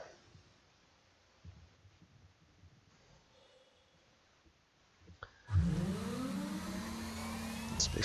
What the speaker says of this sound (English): Engines online.